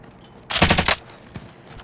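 Burst of rapid automatic gunfire from Call of Duty: Modern Warfare, a loud half-second volley followed by a few quieter single shots and game effects.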